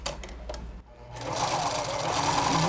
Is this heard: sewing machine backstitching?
yes